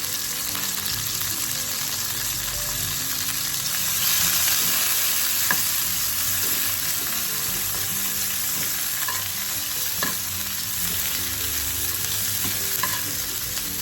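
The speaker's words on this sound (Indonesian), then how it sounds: "Jadi kita tumis dulu udangnya lebih dulu sampai matang, sampai warnanya kemerahan." Shrimp sauté in a hot pan for aglio olio, with a loud continuous sizzle and occasional scraping stirs close by and no talking.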